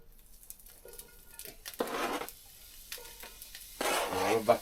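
Onions frying in a skillet on a wood burning stove, sizzling in uneven bursts with stirring and scraping, soft and close with quiet stretches between.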